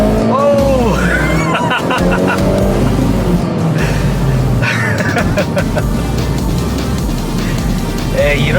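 A Hyundai Veloster N accelerating hard on a highway gives a loud, continuous engine roar with rising tones and road and wind noise, while people talk and exclaim over it inside the car.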